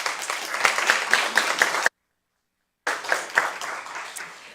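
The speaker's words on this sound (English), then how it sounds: "Can we give them both a round of applause?" An audience at a county candidate forum for Commonwealth's Attorney and Sheriff claps loudly and steadily, with a sudden silent break of about a second before the applause resumes and then tapers off.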